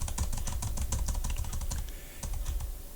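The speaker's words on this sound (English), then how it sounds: "You know, you just type stuff." Rapid keystrokes on a computer keyboard while typing a message on an old bulletin board system, a steady close clatter of clicks throughout.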